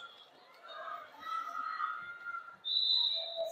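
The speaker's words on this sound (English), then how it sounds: "And that'll be the whistle for jam number 2." A referee whistle sounds at the start of a roller derby jam, a sharp sustained blast arriving late and loud over an indoor arena crowd murmur and announcer chatter.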